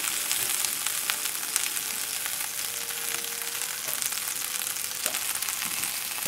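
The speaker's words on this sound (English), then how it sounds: "You have to cook the okra, whether it's the fresh or the frozen. You cook that in oil." Okra, fresh or frozen, frying in oil for a chicken sausage gumbo, giving a steady, fairly loud broadband sizzle with faint crackles throughout and no talking.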